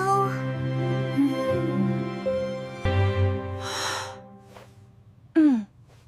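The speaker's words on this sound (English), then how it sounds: "that was a big yawn" A long, drawn-out human yawn rises and sags over several seconds, ending with a breathy exhale and a short squeaky gasp, close and fairly loud.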